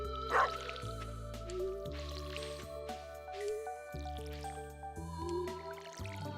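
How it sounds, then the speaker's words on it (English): Soft wet squishes and drips from watering plants in a farming game, scattered and faint over steady layered background music. "Gotta water the plants."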